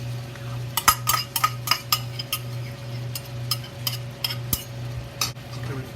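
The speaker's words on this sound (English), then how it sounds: "Now we added the scrambled egg into it" A utensil stirs scrambled egg and fully cooked shrimp in a frying pan, giving a steady run of close metallic scrapes and clinks over a low, constant background hum.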